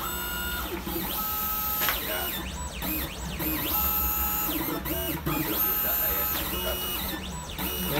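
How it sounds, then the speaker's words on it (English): Vinyl cutting machine cutting a T-shirt design, its carriage motor whirring in steady sweeping passes with rising and falling tones, close and continuous for the whole stretch. "Now the cutter will cut it for itself."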